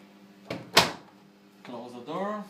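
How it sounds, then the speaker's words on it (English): Whirlpool washing machine door shutting with one sharp, close thud after a softer knock, and a voice speaking before and after. "close the door"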